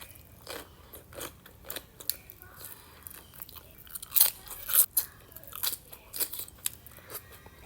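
Crisp, wet crunching and biting of pickles and cabbage in a low-carb meal with meat and egg, chewed close to the mouth in irregular bursts with no speech.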